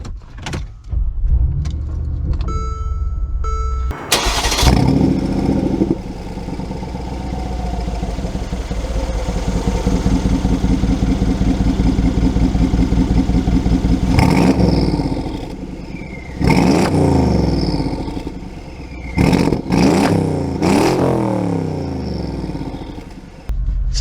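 A Brabus 700 G63 G-Wagon fires up with a sharp crank and settles into a deep, loud, close engine note, with revs rising and easing as it pulls away, plus a few brief lulls and interior clicks.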